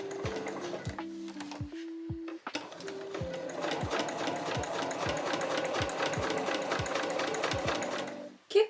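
Domestic sewing machine stitching small fabric scrap pieces for a trunk-style key case, running in short bursts at first, then a steady continuous whir of rapid needle strokes, close and loud with no talk.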